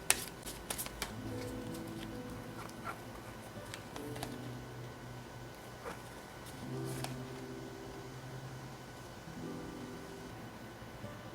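Tarot cards being shuffled and drawn: a run of soft papery riffles and light clicks, close and quiet, over a faint sustained tonal background with no voices.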